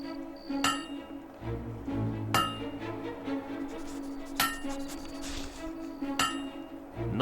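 Hammer blows ringing on metal at a forge in the video game Fable II, with five sharp metallic clangs spaced about every one to two seconds over a steady low hum, close and loud.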